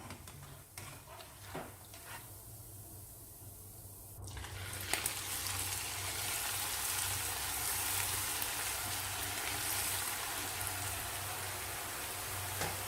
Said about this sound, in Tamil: இந்த சலசலப்பு அடங்குற வரை வேக விடணும்